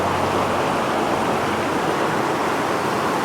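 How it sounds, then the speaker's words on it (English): Water pours off a rock ledge outdoors in a steady, unbroken rush of broadband noise, like a small waterfall heard close, with no talk over it. "that water is rolling off that ledge of that rock there"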